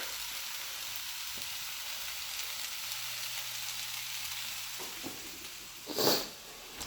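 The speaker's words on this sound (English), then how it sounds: "And we got that all sizzling up in the pan there." Steady close sizzling of vegetables frying in a pan, with a brief louder crackle and stir near the end.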